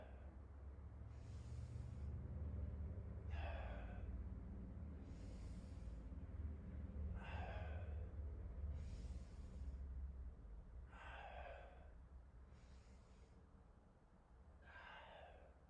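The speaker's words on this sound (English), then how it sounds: "Inhale as you gently extend the spine and open the chest" Rhythmic breathing during a cat-cow spine exercise, alternating airy inhales and exhales in a steady repeating pattern, close and fairly soft over a low room rumble.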